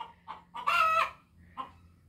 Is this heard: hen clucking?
yes